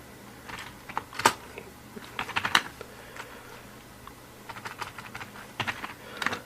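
A git command being typed on a computer keyboard: quick, close bursts of key clicks in uneven clusters, with short pauses between words.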